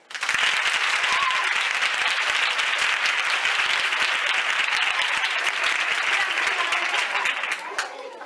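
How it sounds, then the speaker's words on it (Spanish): Audience applause fills a school hall after a theatre announcement of a student Beckett adaptation, a dense, steady roar of many hands clapping throughout before thinning near the end. "Por favor, un aplauso."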